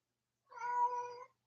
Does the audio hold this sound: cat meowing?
yes